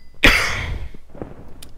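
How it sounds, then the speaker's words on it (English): One loud, close cough breaks out during a mining gameplay session and fades into a brief breathy tail, followed by faint small sounds. "Sorry about that. Had a cough there."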